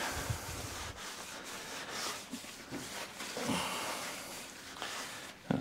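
A blue rag is wiped and rubbed across the underside of a Mountfield 414 lawnmower deck, producing soft, quiet scrubbing strokes that come in irregular bursts close by.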